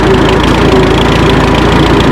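An Oliver 770 tractor engine running steadily at close range, a loud, unbroken low mechanical drone with a rhythmic chugging pulse and vibration throughout, no voices.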